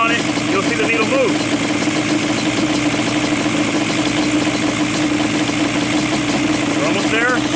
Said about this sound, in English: You hear the idle getting a little more crisp.